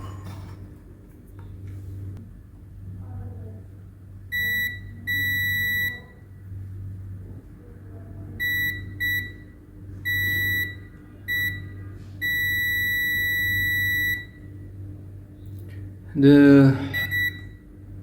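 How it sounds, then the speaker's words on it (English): Multimeter in continuity mode beeps in short and longer bursts while probing the DC input jack of a Yamaha PSR 3000 keyboard, quiet hum underneath, and a voice speaks briefly near the end. "So I'm gonna check with my multimeter with this diode and continuity test"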